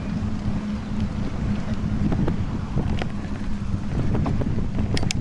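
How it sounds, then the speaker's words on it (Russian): Wind buffets the microphone on a solo bicycle tour through rural Tatarstan, a constant loud low roar and rumble with scattered small clicks and rattles throughout, no talking. "Ветер сегодня не балуй."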